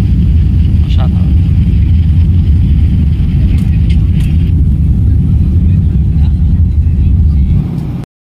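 An airliner rolling down the runway after landing on a flight arriving in Dhaka, heard from inside the cabin as a loud, steady low roar and rumble that holds throughout and then cuts off abruptly at the very end.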